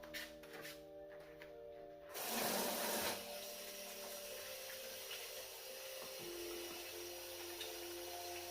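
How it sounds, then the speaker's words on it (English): Hands washed under a running kitchen tap after preparing a chicken marinade: a steady broadband rush of water, fairly faint, with a brief louder splash near the start. "I'm gonna wash my hands and then clean up."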